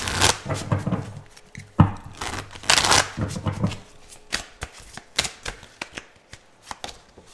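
A deck of oracle cards is shuffled at close range: fast riffling bursts and soft slaps in an irregular rhythm, with a few faint vocal sounds.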